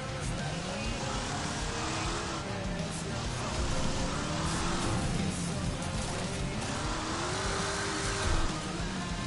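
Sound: limousine engine in Wreckfest racing video game

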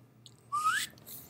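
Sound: person whistling

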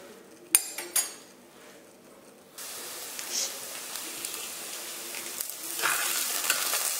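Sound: onions and cinnamon sticks braising in a pan

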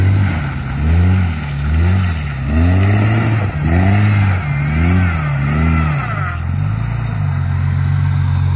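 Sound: Jeep Cherokee XJ accelerating hard, engine revving

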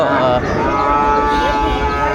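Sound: cattle calves mooing

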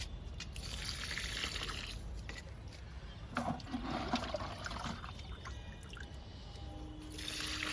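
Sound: pouring liquid fertilizer onto a lemon plant

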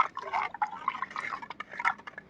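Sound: stirring decomposed rice mixture with waste decomposer

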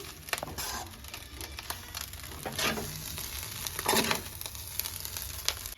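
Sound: mixing fried eggs into egg rice in hot pan

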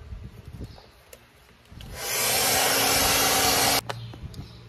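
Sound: hair dryer heating plastic mirror cover

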